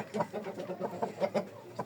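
Repeated soft clucking and chirping from chicks close by, a steady run of short calls with no talking.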